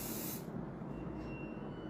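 Hair spray hisses out of an aerosol can in a steady, close burst that runs the whole length, with brighter high hiss at the start.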